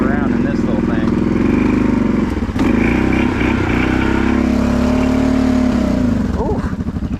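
A heavy motorcycle, the brute, rumbles steadily and loudly up close while being ridden over slick ground on tires with little grip, its engine droning continuously with a few brief surges and clatters.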